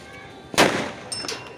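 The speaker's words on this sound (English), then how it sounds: "chocolatia bomb is just getting explode" One loud, sharp bang from a Diwali firecracker bomb bursts close by, followed by a short fading crackle and a couple of small pops, with no voices over it.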